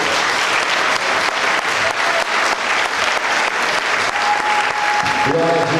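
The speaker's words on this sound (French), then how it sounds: "merci d'exprimer sa joie par des acclamations" A church congregation applauding and cheering in joy during a worship service, loud continuous clapping filling the room, with a sustained tone and some voices rising near the end.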